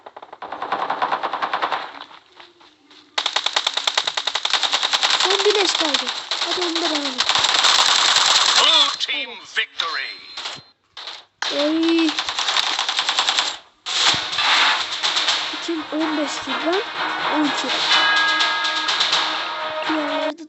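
Rapid automatic gunfire bursts from PUBG Mobile, with pistol and rifle shots rattling in long loud strings, broken by short pauses and gaps of near silence.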